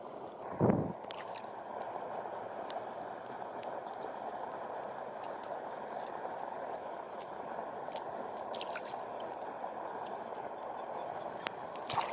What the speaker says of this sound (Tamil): இதுதாங்க வயல் வயல் சத்தத்தை கேட்பாருங்க பாருங்கள் இப்போ தண்ணி ஓடுற சத்தம் பாருங்கள்